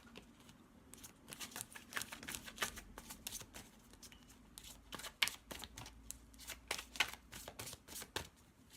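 Angel answer oracle cards being shuffled, with repeated crisp riffling bursts and card slaps in quick irregular succession, close and fairly quiet, with no talking.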